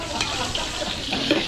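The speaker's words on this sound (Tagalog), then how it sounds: "So mag-igisa na tayo. Unahin na natin igisa yung Sili." Chili peppers sautéing in a hot pan for kaldereta, a close, busy sizzle with scraping stir strokes throughout, loud and steady, no voices.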